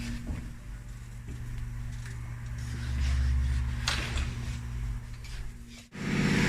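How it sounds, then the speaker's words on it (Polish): ABS pump of a Mercedes ML 350 W164 running during a brake bleeding procedure in a workshop, a steady mechanical hum with a constant low tone that swells midway, then stops abruptly and restarts near the end. "Kończymy procedurę odpowietrzenia pompy, zostało 20 sekund. Słuchajcie, jak pompa chodzi."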